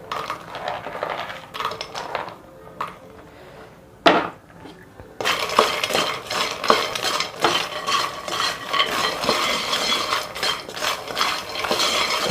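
Fried makhana lotus seeds are tossed with masala in a pan, giving rapid scraping and rattling clatter. A quieter, sparser start is broken by a sharp knock, then steady busy stirring follows.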